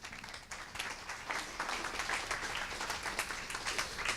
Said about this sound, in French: je vous laisse l'applaudir.